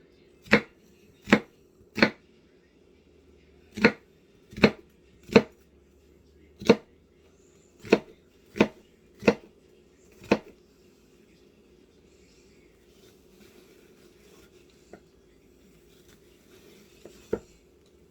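A knife chops a whole onion on a cutting board in sharp, distinct thunks, about a dozen evenly spaced strikes followed by a pause and a couple of final cuts, close and clear in a quiet kitchen.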